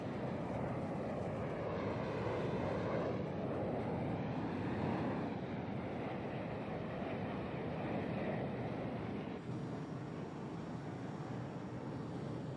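An attack jet flies in the Battlefield 6 video game, a steady broad engine roar with a whooshing, slowly shifting airflow tone held throughout at an even, fairly loud level.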